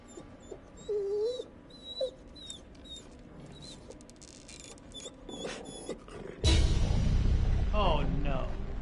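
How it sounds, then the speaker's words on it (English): A dog whimpers in the horror video game The Devil in Me, with short high whines early on against a dark ambient backdrop, before a loud low rumbling swell takes over. "Sound like a dog. whimpering."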